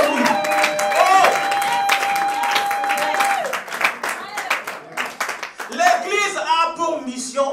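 A church congregation applauds in a dense, loud patter of clapping mixed with cheering and voices that rise and fall.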